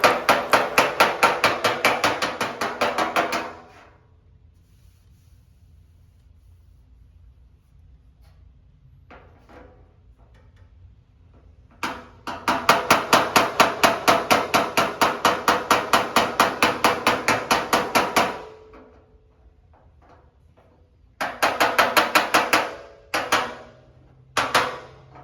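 A hammer pecks on the sheet-metal fender of a 1964 Ford Falcon in rapid, close, steady bursts of light metallic taps, separated by quiet pauses.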